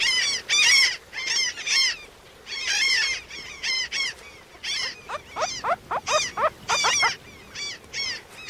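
Terns call repeatedly near their nests on a broad sandy river beach in the Amazon, in harsh, rapid, chattering bursts, some overlapping, loud and close against a quiet background.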